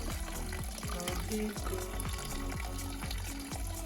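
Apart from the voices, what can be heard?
pond water draining out during a water change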